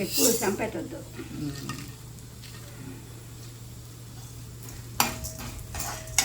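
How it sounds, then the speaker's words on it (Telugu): Urad dal, chana dal and dried red chillies fry in hot oil in a pan with a soft steady sizzle, stirring scrapes and clinks of a spoon against the pan, while voices talk briefly at the start. "మినప్పప్పు, శనగపప్పు, ఎండుమిరపకాయలు. ఓకే, తొందరగా వేగిపోతుంది."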